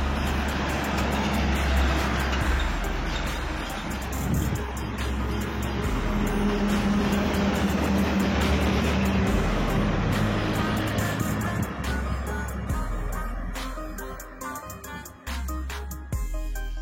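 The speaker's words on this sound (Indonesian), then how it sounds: "Di situ ada truk bus" Heavy road traffic rumbles past continuously, a deep engine drone with a truck and bus passing nearby, loud and sustained before easing slightly near the end.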